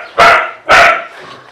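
A dog gives two loud, close barks about half a second apart, each sharp at onset and trailing off, with a fainter third yelp fading at the end.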